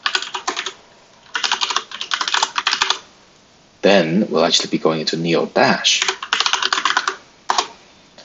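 Rapid clicking of keys on a computer keyboard in bursts, close up, with a person talking over the later part.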